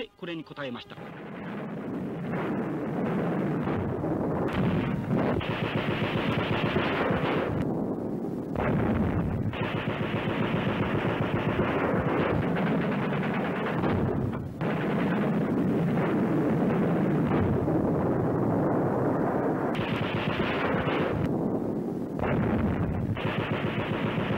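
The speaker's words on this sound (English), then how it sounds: "the Chinese military replied to us with gunshots" Heavy gunfire from the Chinese military at Nanking in 1937 rattles almost without pause, bursts and booming blasts overlapping into a dense, loud barrage that keeps on.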